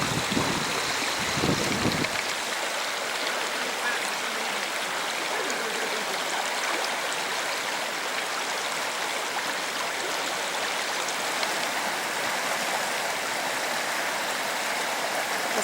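A turbulent river rushes loudly over rocks below picturesque cliffs near waterfalls, producing a constant broadband roar that fills the whole stretch, close and unbroken, with a brief lower rumble at the very start.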